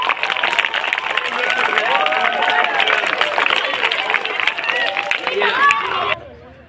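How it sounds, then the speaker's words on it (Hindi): Schoolchildren clapping hard at a Children's Day celebration, a dense continuous burst of small hands mixed with excited shouting that stops abruptly near the end. "जोरदार तालियां।"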